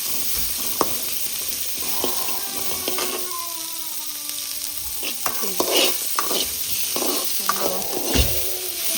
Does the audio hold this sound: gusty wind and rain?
no